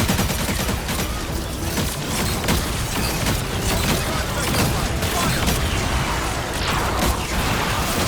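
Dense, continuous gunfire and energy blasts from the video game Marvel Rivals, a busy wall of rapid shots and mechanical clatter running loud throughout with no pause.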